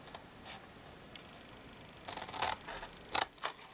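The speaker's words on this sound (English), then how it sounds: "we're cutting up our score lines as we normally would" Scissors snipping through card along score lines while shaping a handmade gift box, a few short, crisp cuts bunched near the end, close and quiet with no talk.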